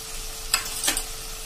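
Ground coriander-cumin spice mix fries in oil with chilli-ginger-garlic paste for a Kathiawadi ridge gourd and moong dal curry, a soft sizzle broken by two quick stirring scrapes close by.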